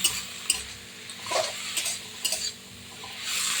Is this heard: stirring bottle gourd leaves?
yes